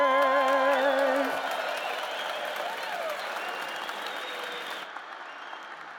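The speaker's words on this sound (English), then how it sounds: "Let's give another round of applause to our singer, Kian Begzadeh." A graduation audience at a college engineering ceremony applauds the singer after the national anthem, the clapping strong at first and then thinning to a softer, sustained patter. A sung note trails off at the start.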